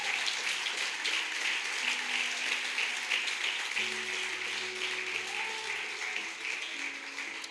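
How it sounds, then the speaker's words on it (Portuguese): Church congregation applauding loudly and steadily during a Portuguese-language sermon, a dense, sustained wash of many hands clapping, with a few soft voices and sustained keyboard tones underneath. "Dê um aplauso bem forte a Jesus."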